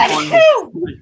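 A single sneeze bursts out loud and close, rising sharply then tailing off, followed by a short voiced murmur.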